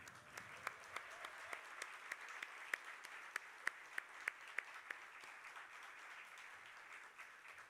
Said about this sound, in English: So let's give all the faculty a round of applause